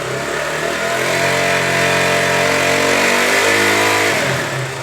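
A KTM Duke motorcycle with a low-battery charging problem revs up: a loud, continuous engine roar that climbs steadily in pitch and holds high, with no voices.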